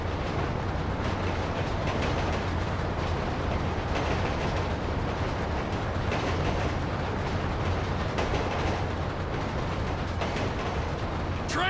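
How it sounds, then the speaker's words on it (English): A train rolls along the tracks in the video game GTA 5 during a derailment mission, giving a steady, loud rumble with dense low-end roar and no letup. No talk is heard over it. "Train ain't stopping here, boy!"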